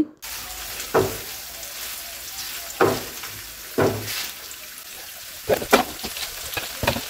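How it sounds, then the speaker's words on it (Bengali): Chillies frying in oil sizzle steadily while a spatula stirs them, with sharp scraping knocks against the pan about once a second and a quicker cluster of strokes toward the end. "দিয়ে দেওয়ার পর আবারও নেড়ে চেড়ে এগুলা বাদামি কালার করে নেব।"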